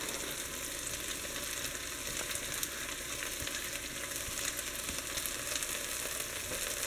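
Beef and onion sear in a pot for a home beef stew, a steady, dense sizzle holding close and even throughout, with faint clicks of stirring now and then and no voices.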